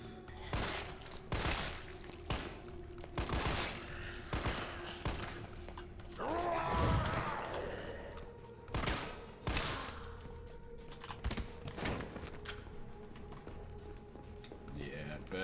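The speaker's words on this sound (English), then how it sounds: "Burst fire." Short bursts of gunfire from Resident Evil 3 Remake, played on Hardcore, crack out repeatedly across the stretch, spaced irregularly between quieter gaps, with game ambience underneath.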